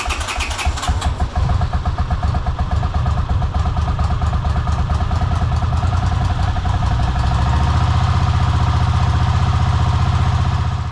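A Honda CX500 motorcycle engine cranks with rapid clattering for several seconds, catches, and settles into a loud, steady, close idle.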